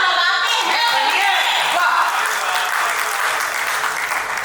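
Sustained audience applause fills a Hindi kavi sammelan poetry recital, steady and dense throughout with scattered cheers mixed in.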